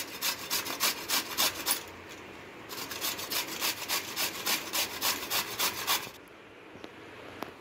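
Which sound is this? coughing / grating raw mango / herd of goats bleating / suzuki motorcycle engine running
grating raw mango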